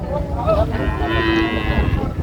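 A part-Sahiwal dairy cow moos once at a cattle market in Raniganj, Dinajpur, a loud drawn-out low call close by, with faint background noise around it.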